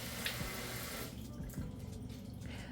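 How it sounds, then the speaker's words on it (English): A kitchen tap runs steadily while hands with mustard on them are rinsed under the water. The close, continuous splashing changes in tone partway through as the hands move in the stream. "let me rinse my hands off. I got mustard on my hands."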